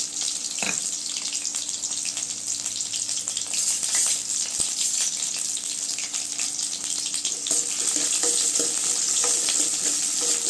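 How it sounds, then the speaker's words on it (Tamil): Large onion and garlic frying in hot oil, a steady close sizzle with faint stirring clatter, running continuously without any talk. "எண்ணெய் சூடானது வெங்காயம் சேர்த்துக்கலாங்க பெரிய வெங்காயம் பூண்டு சேர்த்துக்கலாம்"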